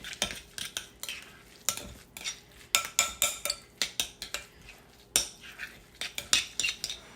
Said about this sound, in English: now let me stir it